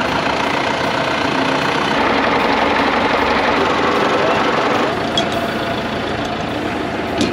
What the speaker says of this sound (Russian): Ззаді воно є трактор.